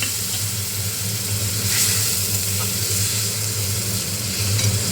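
A steady, dense sizzle of spices and ground turmeric frying in oil in a pan with a little water added, continuous and close without pauses, with a low hum running underneath.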